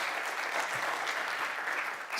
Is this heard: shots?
no